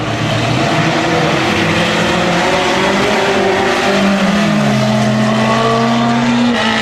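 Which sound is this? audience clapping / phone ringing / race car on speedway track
race car on speedway track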